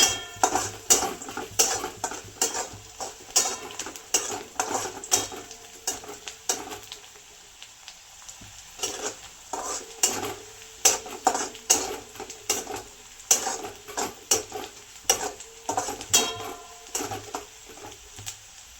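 Onion sautéing in a pan while being stirred, a soft steady sizzle with repeated rhythmic scraping and clinking of a spoon against the pan, fairly quiet and close.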